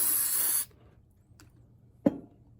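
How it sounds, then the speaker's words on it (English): Brake parts cleaner sprayed from an aerosol can onto a finger during work on a Husqvarna 2100XP chainsaw, a steady close hiss lasting about half a second, then quiet with a couple of small clicks and a knock. "Take some brake parts cleaner, spray my finger off and get all that residue."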